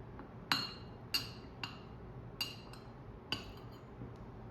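Porcelain coffee cup being opened and clinked for a Turkish coffee fortune reading, five or six bright, light clinks at uneven intervals, close and fairly soft, with no voices.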